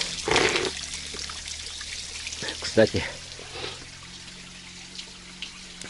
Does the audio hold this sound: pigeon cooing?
no